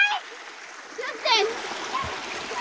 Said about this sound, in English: That is a natural waterfall.